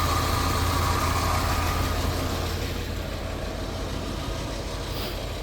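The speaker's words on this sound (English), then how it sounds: "engine's running nice and smooth." A 1965 Lincoln Continental sedan's engine idles with a steady, low rumble continuously at close range, smooth and even throughout, with no voices over it.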